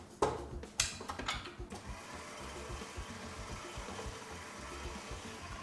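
A food mixer starts with a few sharp clunks, then whirs steadily at a low, even speed, churning kouglof dough with lardons and aged comté.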